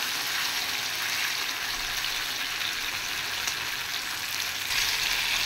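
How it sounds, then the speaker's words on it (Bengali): Leftover curry of eggplant and boal fish head sizzles steadily as it reheats in a pan, a loud, continuous frying hiss with no pauses. "এবার এটা গরম করে নিচ্ছি দুপুরে খাওয়া হবে"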